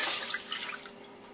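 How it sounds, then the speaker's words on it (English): Evaporated milk pours into a pot as the first liquid for homemade hot fudge, a brief soft liquid splash and trickle, close and fairly quiet, fading over about a second with no talking. "I'll put in my liquids first, evaporated milk"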